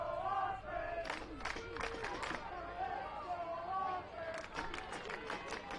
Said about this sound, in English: Chance of let's go offense from the Saints crowd.